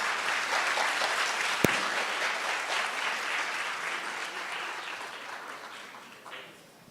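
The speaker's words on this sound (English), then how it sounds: "Can we have a round of applause, please?" A crowd applauds steadily at a Foundation Day cultural programme felicitation, with dense, sustained clapping that slowly fades toward the end, with one sharp click partway through.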